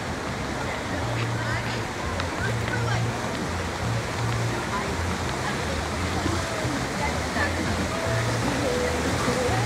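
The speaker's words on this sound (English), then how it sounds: "Approaching another bridge that crosses over the Rapids River" Rushing water of the Rapids River at the Aquaventure water park at Atlantis, Paradise Island, Nassau, a loud continuous churning roar heard close from a bridge, with a low hum running beneath.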